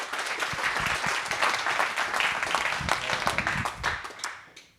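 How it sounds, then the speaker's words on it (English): An audience at a talk on homelessness and housing gives a round of applause, a dense, fairly loud clatter of many hands that holds steady and then fades out at the end. "If we could give you a round of applause"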